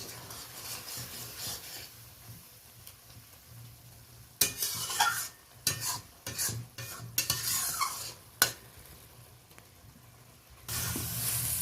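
Small fried pond fish being stirred in a hot pan for a spicy curry with potatoes. A quiet background sizzle is broken by scraping spoon strokes and bursts of frying, with a louder sizzle near the end.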